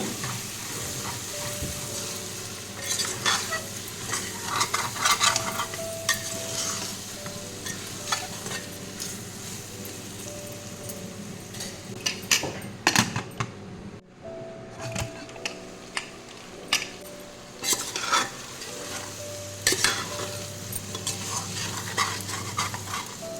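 Tomatoes fry in a pan for a raw jackfruit dish, with a continuous soft sizzle under repeated scraping and clattering stirring strokes from a utensil against the pan, close up.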